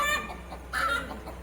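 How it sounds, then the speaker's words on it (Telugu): A mother hen clucks close by at dusk: a couple of short, soft clucking calls spaced apart over a quiet rural background. "ఆ తల్లి కోడి చూడండి"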